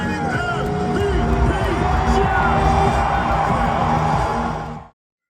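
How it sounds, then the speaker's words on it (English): A packed stadium crowd at a Buffalo Bills home game roars as players are announced, a loud, sustained wash of cheering, whooping and yelling that swells and then cuts off abruptly near the end. "got to hear the roar of the crowd for each player"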